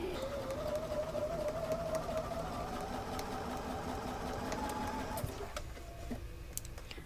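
A sewing machine pieces log cabin quilt blocks with a steady mechanical whir and a rising motor hum, then stops, leaving soft clicks and fabric handling.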